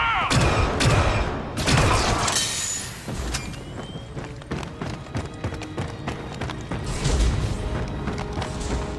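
Rapid bursts of blaster fire crackle through a firefight in a Star Wars video game, dense and loud at first, then thinning into scattered shots and booms. Voices shout beneath the shooting.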